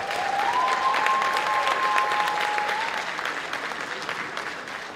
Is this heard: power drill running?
no